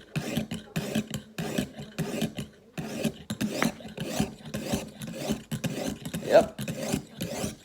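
A kitchen knife drawn across a 280 grit medium coarse sharpening stone produces close, gritty rasping strokes in a steady back-and-forth rhythm, each stroke separated by short gaps.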